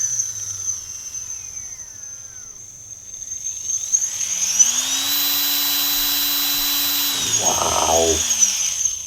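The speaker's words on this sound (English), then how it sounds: "using this servo tester, you can control the brushless motor through the controller" A brushless motor run through a controller by a servo tester spins up fast, holding a loud, steady high whine with a rising tone that levels off, ending in a brief rattling flutter.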